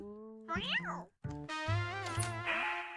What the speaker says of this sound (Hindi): बिल्ली बिल्ली गुड गर्ल।